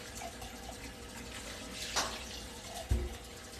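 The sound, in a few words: tap water running while rinsing beans in the sink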